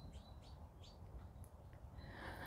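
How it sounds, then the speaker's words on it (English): Many birds sing outside a polytunnel in rural Ireland in spring, with repeated bright chirps and whistled phrases at a moderate distance over a steady low outdoor rumble. "I wonder if you can hear all the birds."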